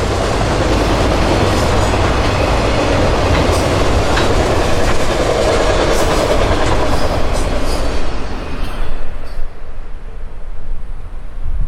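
A freight train on Florida's S Line rumbles past close by with steady clattering and a loud continuous roar that fades and thins toward the end.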